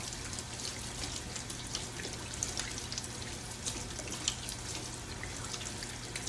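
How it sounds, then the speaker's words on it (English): Water runs steadily from a kitchen tap as hands are washed under it, a continuous close hiss and splash with small irregular drips and trickles, no talk. "you want to go ahead and put your hands under the water, and you want to wash for 20 seconds."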